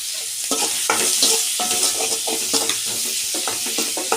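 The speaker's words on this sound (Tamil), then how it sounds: "நல்லா வதக்க தான் கொஞ்சம் நல்லா அதில் உப்பு இதில் போட்டுற காரங்காரம் எல்லாம் ஏற அளவுக்கு நல்லா வசக்கணும்" Meat sizzles and fries in a pan while being sautéed, with repeated scraping stir strokes against the metal over a constant hiss, close and loud, no talking.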